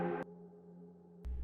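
A cinematic whoosh processed with reverb, distortion and delay opens with a brief burst, then a low tonal hum and resonant tail hold quietly until a second sharp burst near the end.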